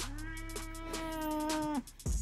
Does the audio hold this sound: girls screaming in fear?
no